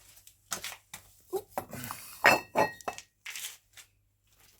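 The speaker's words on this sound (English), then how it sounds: "I'm in the process now of putting the glass windows in" Glass window panes clinking and knocking while being handled during window installation in an old building, a series of sharp, close clinks and dull thunks in irregular bursts.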